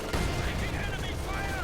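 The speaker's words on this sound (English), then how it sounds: "Heavy mortar bombarding" Heavy mortar bombardment in a war video game: a dense, loud burst of booming impacts and rumbling blasts, brief and continuous, with some background game noise.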